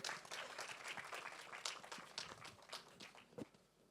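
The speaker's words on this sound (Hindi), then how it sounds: "शाजिया इकबाल जी के लिए एक बार जोरदार तालियां" Audience applause at the Dhadak 2 trailer launch event, a dense, continuous patter of many hands clapping throughout, fading slightly toward the end.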